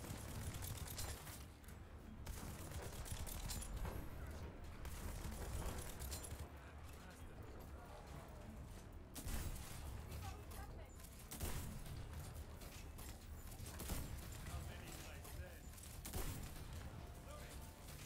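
Sustained video-game gunfire from The First Descendant, rounds hammering against a shield in dense, continuous bursts with sharp peaks, loud and close under a game soundtrack and a talking voice.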